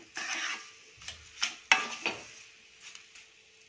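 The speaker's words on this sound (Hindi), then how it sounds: "अब इसे हम चीनी के साथ अच्छे से पकाएंगे, चीनी के मेल्ट होने तक अच्छे से पकाएंगे।" Moong dal halwa cooking with sugar in a pan is stirred with a spoon, giving a series of soft scrapes and sharper knocks against the metal over a faint sizzle, close and fairly quiet.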